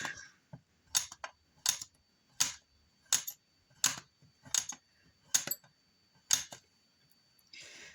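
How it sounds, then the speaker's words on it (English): A blade chops through polymer clay on a hard surface in a steady series of about ten sharp, close taps spaced under a second apart, with no talking. "we're just going to cut it in half, and we're just going to start chopping it up."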